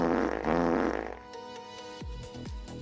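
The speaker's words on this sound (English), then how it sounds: "And why the fuck are you farting?" A fart rings out over the first second, a loud, rumbling, fluttery burst, followed by softer musical game sounds with a few descending tones.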